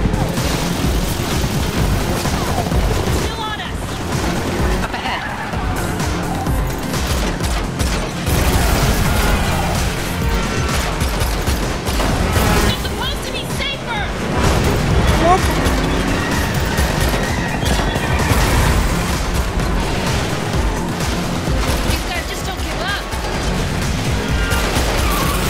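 Rapid gunfire in the Matrix Awakens video game, bursts of shots with crashes, booms and mechanical clatter layered over a busy action soundtrack, loud and continuous.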